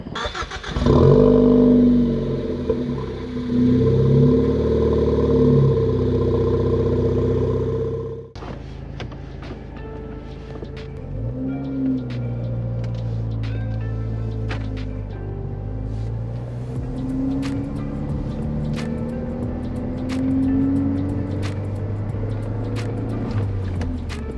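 A Ford Focus ST engine starts with a loud rev, then settles into a steady drive with repeated rising surges as it accelerates, close and prominent.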